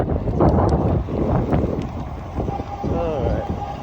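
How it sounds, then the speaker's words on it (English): Strong headwind buffeting the microphone while riding a Vamos El Doblez e-bike, a loud continuous low rumble with gusty surges throughout, and a voice talking under it. "So the headwind's pretty strong right now."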